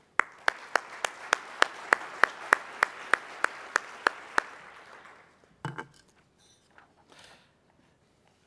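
At a charity luncheon, a single pair of hands claps in an even, evenly spaced rhythm of about fourteen sharp claps, then stops, followed by a few faint clinks and knocks in a quiet room.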